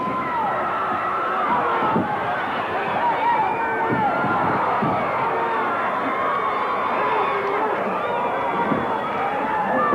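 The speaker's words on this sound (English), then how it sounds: "This crowd is going wild." Wrestling arena crowd at a Randy Savage versus Ron Garvin cage match roars continuously and loudly throughout, a dense sustained wall of cheering and babble with no pauses.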